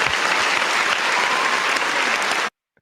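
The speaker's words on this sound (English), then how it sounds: "let's do a round of applause." A round of applause from a group, dense steady clapping for about two and a half seconds that then cuts off abruptly to silence.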